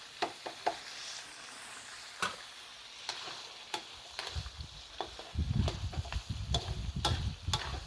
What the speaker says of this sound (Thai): ทอดแป๊บหนึ่งนะคะ